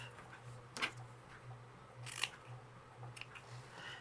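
Sharp scissors snip through decorative paper trim in three short, faint cuts spaced across a quiet room, with a low steady hum underneath.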